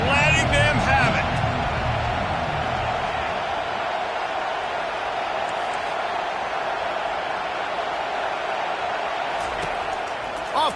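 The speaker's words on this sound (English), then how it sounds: "this crowd is letting them have it" A stadium crowd roaring at an Oklahoma football game, a broad sustained wall of cheering under a commentator's voice.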